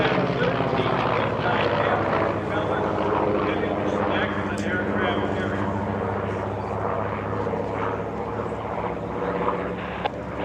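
An aircraft engine runs at the EAA AirVenture airshow, a loud, steady, throbbing propeller drone filling the whole stretch, with a voice talking over it.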